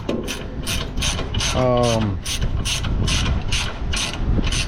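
A ratchet wrench clicks in steady, rapid bursts close by while a skid plate is bolted back onto a Duramax pickup truck. A short tonal hum or voice cuts in midway.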